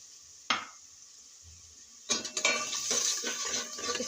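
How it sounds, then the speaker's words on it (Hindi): Spices for an aloo matar pulao frying in a pot as a little water is poured in, with a sharp metallic clink, then a burst of hissing sizzle and scraping stirring that keeps going, close and fairly loud. "हल्का सा और पानी में डाल देती हूँ इसमें।"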